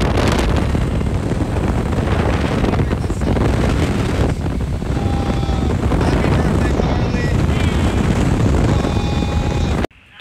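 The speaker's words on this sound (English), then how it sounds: "there's a huge gust of wind and rain" Strong gusty wind at the beach with rain, loud continuous buffeting roar against the microphone for the whole stretch, cutting off abruptly at the end.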